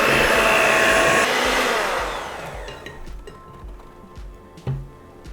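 An electric mixer blending red food coloring into red velvet cake batter: a loud, steady whirring motor that drops away after about two seconds, followed by softer scraping and clinking in the bowl.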